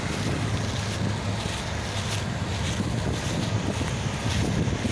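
Strong wind roars steadily against the microphone in a field during harvest with a Claas Lexion 7700 combine, a constant low rumbling buffet with a broad hiss above it and no voices.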